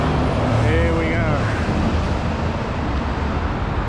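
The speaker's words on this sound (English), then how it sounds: "Heavy transports, fuel trucks." Heavy transport trucks and fuel trucks pass along a busy road in Southbank, Australia, a steady loud rumble of engines and tyre roar filling the scene, with a brief whining tone early on.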